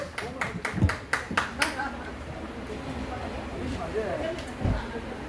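A crowd at a Korean troupe performance claps to welcome a Buddhist monk singer, a short burst of sharp, fairly loud claps that fades after about two seconds into a murmuring room.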